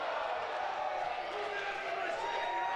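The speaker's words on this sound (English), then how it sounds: "listen to the crowd, the way he just tossed him right over his head" A wrestling crowd in an arena roars in reaction as one wrestler throws another over his head during an FSW bout, a dense, steady wall of cheering and shouting filling the whole clip.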